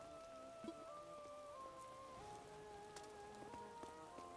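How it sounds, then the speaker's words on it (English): Soft, steady rain patters on surfaces on a video game island, faint and continuous, mixed with quiet tonal game music notes and occasional light clicks. "Ooh, and it's raining."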